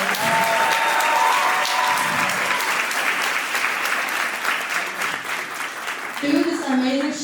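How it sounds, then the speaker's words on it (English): A crowd at a Johns Hopkins ASA fashion show claps steadily for several seconds, dense and moderately loud, with some voices emerging near the end. "So give yourselves a round of applause."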